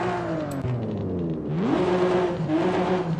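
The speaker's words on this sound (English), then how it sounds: "you can rev the car while in here, and you could hear how each different exhaust modification that I'll do changes the note. So here's stock." A car with a stock exhaust revs in the Forza Horizon 5 video game, sounding as a short engine run with a rise and fall in pitch followed by a second, higher rev, clear and alone.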